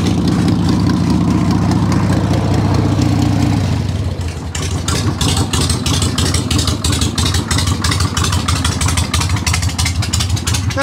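A Harley Evo motorcycle engine fitted with a Chinese carburetor runs loud and close, first with a dense lumpy roar, then settling into a fast, even idle of rapid regular exhaust pulses.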